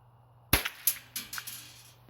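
A string of sharp rifle shots from a Ruger SR-22 firing at a 430-yard target outdoors: one loud crack followed by several quicker, fainter pops in an uneven run.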